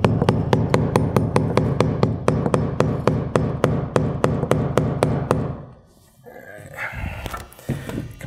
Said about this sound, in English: Again, I'm just nailing that